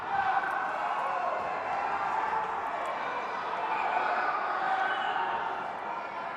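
Crowd noise fills Amelia Park Arena during a varsity high school hockey game between Westfield and Greenfield, a steady, loud wash of voices and cheering that holds at an even level throughout.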